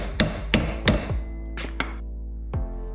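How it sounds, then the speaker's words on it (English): A hammer gently taps at a half shaft under a 1993 Corvette to break it free, several close metallic knocks in an irregular series, each ringing briefly before the next. "we're gonna grab our Tanya Harding 3000 and gently tap away at this until this breaks free"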